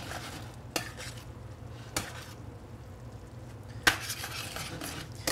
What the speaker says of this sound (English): we're literally gonna toss the flounder in the sauce